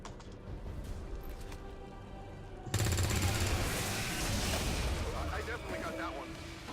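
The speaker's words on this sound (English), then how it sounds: "There's the explosion," A placed explosive goes off in the video game XCOM 2: a sudden loud, heavy blast that rolls into a sustained rumbling roar after a stretch of quieter game sounds, with a voice talking over it.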